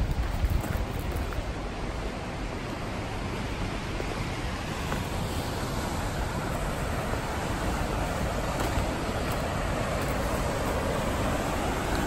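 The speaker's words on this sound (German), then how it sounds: "Hier gibt es einen Wasserfall." A waterfall right beside a road in Switzerland, a constant broad rushing roar that holds steady and even throughout, with no voices over it.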